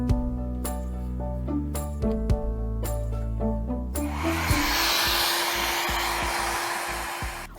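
A hair dryer drying varnish on painted plaster, switched on and blowing a steady loud whoosh in the second half after music-like tones at the start, close by.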